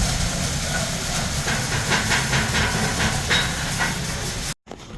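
MIG welding torch laying a final weld pass in a welding class, a steady loud crackling hiss with irregular sputtering bursts, running continuously and then cutting off abruptly near the end.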